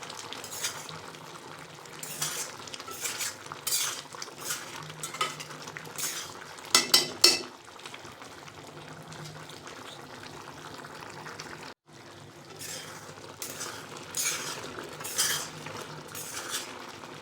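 Mango jam sweetened with jaggery is stirred in a pan. The spoon scrapes and clinks against the metal through a thick, gently bubbling mixture, in steady close strokes with a brief louder clatter partway through and no talk.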